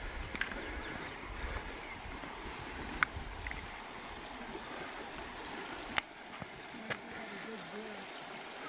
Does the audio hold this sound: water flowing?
yes